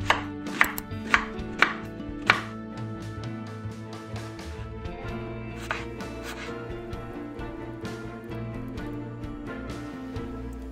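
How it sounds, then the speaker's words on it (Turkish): A knife chops an onion sharply on a board, a quick run of four or five cuts followed by softer, scattered chops over a steady background hum. "Soğanımızı doğrayalım."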